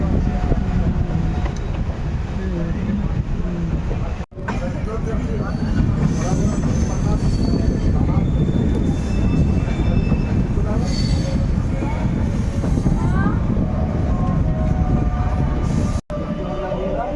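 Kishanganj–Ajmer Garib Nawaz Express rake rolling past at close range, a steady loud rumble of railcars with wheel clatter and squeal, and brief talk over it.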